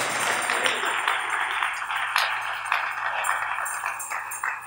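Applause from a church congregation, a continuous wash of many hands clapping with occasional sharper accents, steady and fairly loud throughout.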